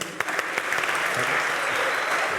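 A studio audience at a talent show claps steadily as a contestant walks onto the stage, the applause dense and sustained throughout with a few sharper claps standing out near the start.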